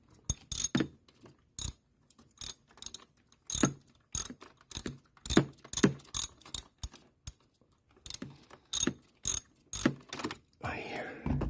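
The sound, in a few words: ratchet wrench turning spark plug socket on Nissan Sentra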